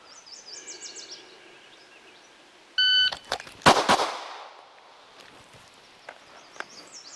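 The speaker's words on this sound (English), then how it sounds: "So I fired 2 shots in the time it took me to draw in the other one." Handgun shots in a drawing practice drill: after a quiet stretch with electronic beeps, a sharp cluster of loud close cracks bursts out, then a few fainter knocks and thumps follow before more beeping.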